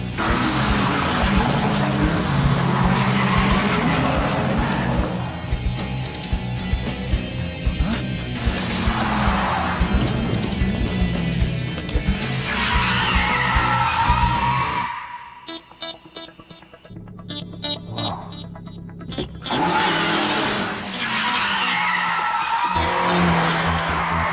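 A car in a mountain-pass street race in an anime dub skids with long tire squeals over revving engine noise, cutting out briefly before the screeching and engine roar return, loud and close.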